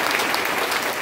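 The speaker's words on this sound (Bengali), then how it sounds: "তাদের জন্য একটা জোরে হাততালি" Loud, dense applause from a freshers' welcome audience fills the moment, steady and continuous from start to finish with no talk over it.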